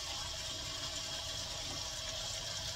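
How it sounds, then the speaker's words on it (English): Water runs steadily into a pan of frozen, precooked casserole filling, a soft continuous pouring and splashing at moderate distance with no talking. "I'm going to put just a little bit more water in there."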